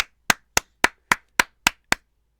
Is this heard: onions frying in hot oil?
no